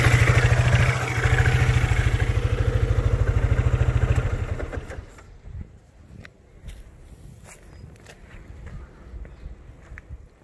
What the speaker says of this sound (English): Let's switch off the engine